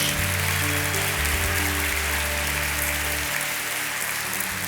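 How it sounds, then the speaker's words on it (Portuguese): A church congregation claps together in praise, a dense steady wash of applause filling the room with no speech. "Dê mesmo uma salva de palmas ao nosso Deus."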